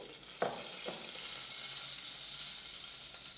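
Cumin and mustard seeds sizzle in hot coconut oil for a tempering, a soft steady crackling hiss with a couple of small pops near the start, fairly quiet and with no talking.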